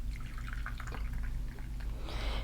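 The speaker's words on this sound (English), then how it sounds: "So let me pour you a cuppa." Tea or coffee is poured into a cup at close range, a soft, continuous trickle of liquid with small drips, quiet and intimate with no voices over it.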